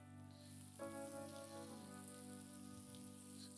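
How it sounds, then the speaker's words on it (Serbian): A frying pan heating up with bacon, giving a steady soft hiss and faint crackle at low level, with a sustained tonal hum running underneath. "Cvrči, zagreva se tiganj."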